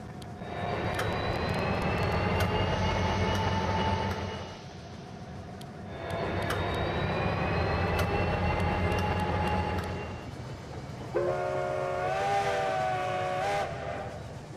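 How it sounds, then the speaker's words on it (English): A model train in the Rolling Line game rumbles along loudly and steadily with a droning engine, then drops in volume for a moment and swells again. Near the end a wavering whistle sounds. "See if that puppy stops for that train."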